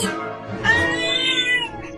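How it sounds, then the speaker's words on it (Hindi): A cat gives one drawn-out meow, close and clear, rising then sliding down over about two seconds with no talk over it. "मियाऊ, ये मियाऊ क्या है?"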